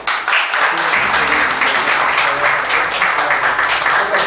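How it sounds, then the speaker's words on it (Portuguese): A church congregation applauds together during a worship service in Cabo Frio, a dense, steady wash of clapping that holds at an even level from start to finish. "Aplauda o Senhor."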